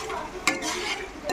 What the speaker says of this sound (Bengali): এবার আমি একটু নাড়াচাড়া করে নিচ্ছি।